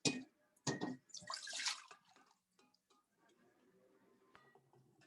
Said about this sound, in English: Pour my water back out.